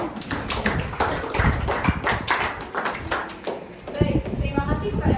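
An audience at a school panel discussion claps in scattered, uneven bursts for several seconds, moderately close and fairly sparse rather than thunderous, with some speech mixed in.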